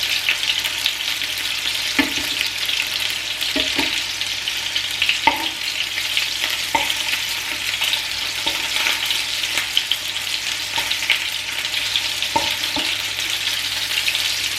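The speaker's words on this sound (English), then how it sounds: "make sure that the entire meatball is starting to brown" Meatballs fry and brown in a pan with a steady sizzle, broken by occasional spoon scrapes and knocks as they are turned; close and even throughout, with no talking.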